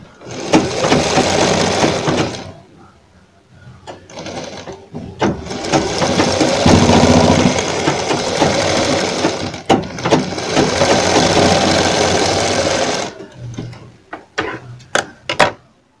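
A sewing machine stitches a fabric frill sleeve in three loud, close runs of fast, steady whirring, separated by short pauses and ending with a few quick taps.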